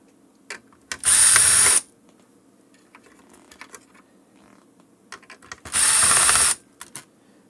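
A powered screwdriver removes screws from a Clear-Com HelixNet HMS-4X intercom in two loud whirring bursts of under a second each, with quiet clicks and small handling taps between them.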